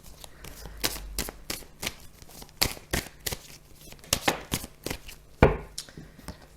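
A deck of cards is shuffled in a quiet room, a run of crisp, fast riffling bursts and flutters with short gaps between them, close to the microphone and with no voice over them.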